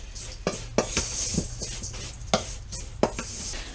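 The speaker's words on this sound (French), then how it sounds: "Maintenant, je vais y mélanger tous mes ingrédients donc solides ensemble." Solid cake ingredients are stirred together in a bowl for a trapper's cake, with a run of sharp clinks and scrapes from the utensil against the bowl at an irregular pace under a low steady background hum.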